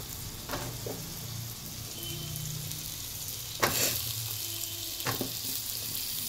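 Potatoes frying in a pan over a full gas flame, a low steady sizzle with a couple of louder stirring clatters, close and without talk.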